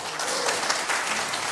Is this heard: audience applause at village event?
yes